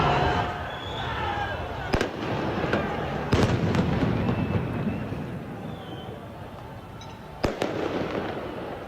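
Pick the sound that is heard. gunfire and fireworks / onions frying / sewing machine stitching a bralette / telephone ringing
gunfire and fireworks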